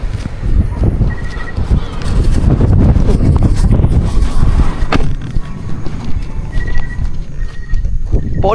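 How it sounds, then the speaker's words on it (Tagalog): Strong wind roars and buffets steadily against the microphone at a mountain campsite in Pangil, Laguna, Philippines, a loud rumbling gust that continues throughout with a few faint clatters. "Kasi nga lumalakas na yung hangin."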